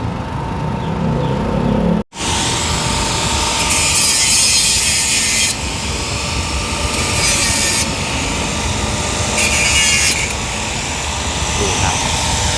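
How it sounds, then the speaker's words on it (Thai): A steady, loud grinding drill bites into a 2018 Toyota Altis exhaust pipe at the sensor hole, running continuously with bursts of higher-pitched scraping, after a brief cut at the start. "เดี๋ยวพี่เขาเจาะอีกตัวหนึ่งให้ดูครับผม"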